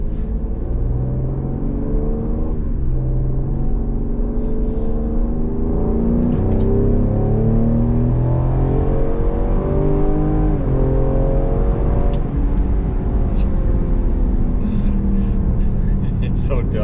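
A 2022 Ford Explorer ST accelerating hard, its engine note climbing steadily in a loud, continuous rising drone through repeated gear pulls, with a voice talking over the top throughout.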